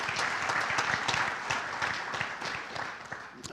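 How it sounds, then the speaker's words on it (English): At an athletic hall of fame induction ceremony, the audience gives a round of applause, with many hands clapping quietly and fairly far off, and the sound tapers slightly toward the end. "They certainly do deserve a round of applause."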